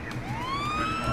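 A police car siren wails from a GTA San Andreas next-gen remaster, one rising electronic sweep that climbs and holds, loud and close, with game ambience underneath.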